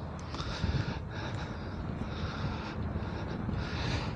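Steady, gusty wind rushes across the uphill 17th hole at Royal Liverpool golf course, a continuous broadband roar with low buffeting on the microphone and no speech.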